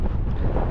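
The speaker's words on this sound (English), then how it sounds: "Still quite windy." Strong wind buffeting on an open Lake District mountain at over 3000ft, a steady loud low roar of gusts hitting the microphone throughout, with no voices.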